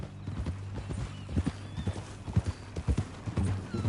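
Horse hooves clip-clop in Red Dead Redemption 2, an irregular run of thudding steps at walking pace with a low tonal hum beneath and a faint whinny-like tone.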